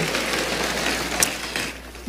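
Audience applause during a church sermon, a dense, steady wash of many hands clapping from a crowd, loud and continuous, with no talk over it.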